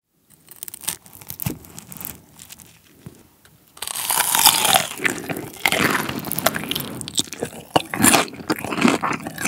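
Crispy whole pork belly skin is bitten and chewed at close range, eaten alongside spicy buldak fried rice. Quiet handling sounds lead into a few seconds of loud, dense crackling crunches that continue steadily to the end.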